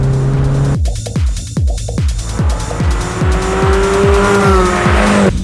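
A Mazda MX-5 and a Mini Cooper JCW launch from a drag race start on a race track, engines revving hard through rapid repeated gear changes with tire squeal, loud and close, no speech.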